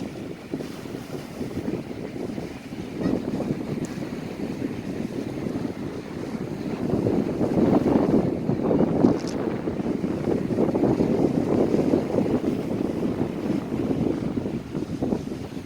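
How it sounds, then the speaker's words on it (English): Wind gusts steadily across a marshland at Presqu'ile Park, carrying a continuous rushing wash of unseen moving water, loud and broad throughout with slight swells in intensity and no voices. "Can't believe how noisy the water is, and yet you cannot even see it anywhere."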